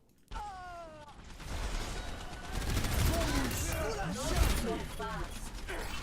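Rapid gunfire in Overwatch during a 2019 World Cup grand final match on the Ilios map, bursts and mechanical clatter layered into a busy, continuous mix of game effects.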